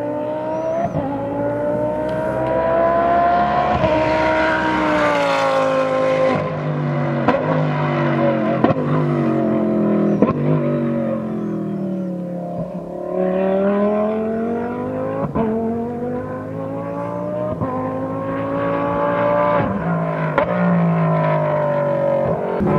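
At a Chuckwalla track day, race cars scream around the circuit, engines rising and falling through gear changes and passes, loud and continuous, with several cars overlapping as they go by.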